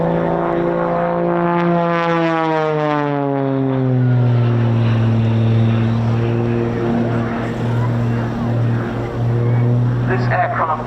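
An unlimited-class aerobatic propeller plane performs a display at the RAF Cosford air show, its engine droning loudly with pitch sliding downward as it maneuvers, while a commentator talks over it throughout.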